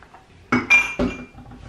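Dishes and cutlery clink in a home kitchen during washing up, with three or four quick ringing knocks of glass and metal close by, then quiet.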